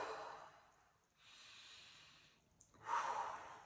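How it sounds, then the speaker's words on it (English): Slow, deep breathing in seated meditation, with a long inhale, a drawn-out exhale, then another audible breath in through the nose, close and quiet with no talking. "Just breathe."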